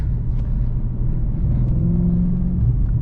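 A tuned 2007 Audi B7 RS4 in sport mode, heard from inside the car as a steady low engine rumble with a faint rising tone suggesting light acceleration.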